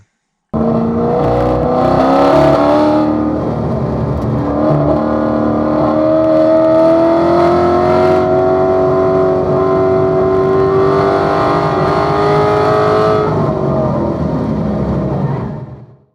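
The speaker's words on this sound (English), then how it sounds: "I quickly accelerate to 10A and then lift or slightly tap the brakes and get the car set up for 10A" A car on a race track, the M1 Concourse circuit, accelerating between turns: a loud, close, continuous engine drone with a rising pitch that holds for about fifteen seconds before cutting off abruptly.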